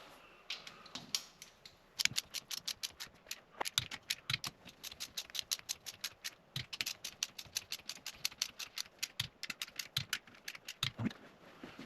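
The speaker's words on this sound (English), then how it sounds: "We'll go ahead and hit them with the torque wrench." Repeated sharp mechanical clicks from a torque wrench tightening stock-style bolts to 22 foot-pounds on an S10 pickup, coming in quick runs of close, crisp ticks with brief pauses between them.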